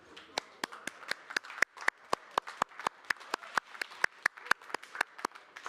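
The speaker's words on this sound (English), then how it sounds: "So how about a nice round of applause for everyone here at King's Resort?" Sparse, evenly spaced hand claps ring out quietly in a poker tournament room at a WSOPE final table at King's Resort. The claps are sharp and distinct rather than a dense wash of applause.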